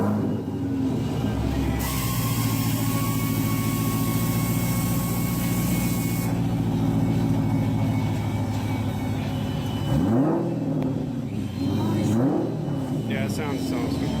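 A C6 Corvette V8 fitted with American Racing headers and an aftermarket cam idles with a loud, lumpy, choppy exhaust note, then is blipped, revving up and settling back down twice near the end.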